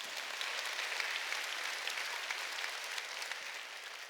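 A church congregation applauds during a Sunday worship service: steady, dense clapping from many hands that fills the whole stretch evenly without pause.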